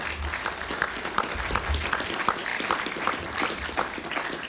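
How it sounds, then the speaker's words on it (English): Crowd at a political speech applauding a human rights activist, a steady sustained wash of clapping heard at moderate distance throughout. "Give her another round of applause."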